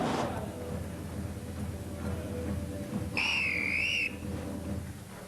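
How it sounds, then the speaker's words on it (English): A referee's whistle marks the end of a timed lift at a 2003 strength Grand Prix in Poland: one sustained shrill blast of about a second, rising over a low crowd murmur. "The whistle blows."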